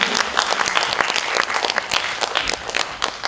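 An audience at a poetry festival concert claps for the sound crew, a lively burst of many hands with crisp individual claps, close and full throughout.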